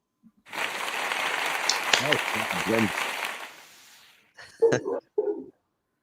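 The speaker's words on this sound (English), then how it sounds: "Get some applause up here" A small group claps for several seconds, a broad steady patter with a few voices talking over it, then stops abruptly before short bursts of speech.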